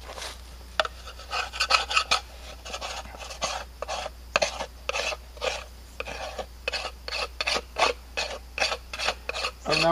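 Body filler is scraped off a mixing board in repeated short rasping strokes, a steady rhythm of close, gritty scrapes with brief pauses between them.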